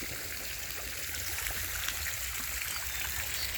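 Water poured into a backyard fish pond to top it up, a steady broadband rush and trickle running continuously at moderate level without pauses.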